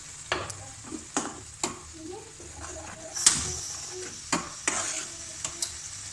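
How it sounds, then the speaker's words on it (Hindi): Tomato puree for aloo gobi matar sizzles in a pan under close, intermittent stirring scrapes and clinks, with a steady frying hiss throughout. "टमाटर की प्यूरी मैंने डाल दी है इसमें, और इसको सिर्फ मैं 1 से 2 मिनट इसको मैं कुक करूँगी"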